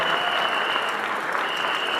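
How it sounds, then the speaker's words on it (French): Sustained applause from a crowd at an honorary doctorate ceremony, loud and even, many hands clapping at once with no pauses from start to end. "Applaudissons très fort."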